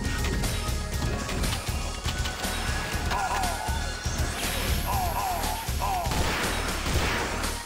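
Doom mod gunfire using Metal Slug sound effects: repeated punchy shots and crashes over busy game noise, with a voice talking throughout.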